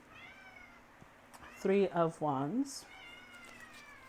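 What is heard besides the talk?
cat meowing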